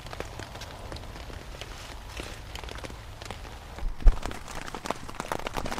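Irregular patter of raindrops tapping on a taut canvas poncho tent during a storm, steady and close, with one sharper knock partway through.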